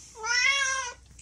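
A single close, plaintive cat meow, rising then falling over about a second, clear and alone against a quiet background at a Christmas market.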